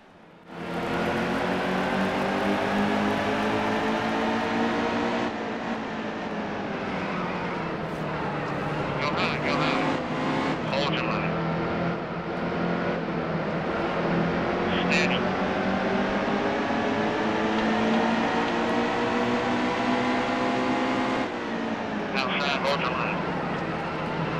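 Engine roar of NASCAR Monster Energy Series race cars at New Hampshire Motor Speedway in the NASCAR Heat 2 game, a dense, continuous loud drone with shifting pitch from the pack running under steady commentary.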